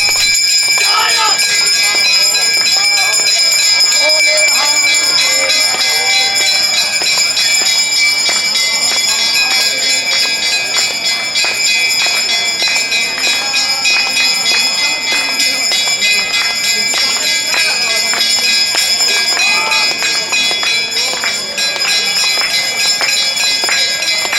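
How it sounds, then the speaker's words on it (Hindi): Temple bells ring continuously during puja at Har Ki Pauri in Haridwar, with bright, overlapping metallic tones amid a busy crowd, people talking throughout. "आपको भी वहाँ की पूजा का साउंड सुनवा देते हैं, जिससे कि आपको ये मंदिर की घंटियाँ सुन के"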